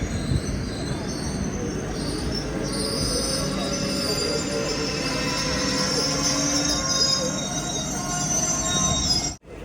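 A train at a railway station platform on a special Jabalpur to Coimbatore run gives off loud, continuous wheel squeal and rolling rail noise, steady throughout and cutting off abruptly at the end.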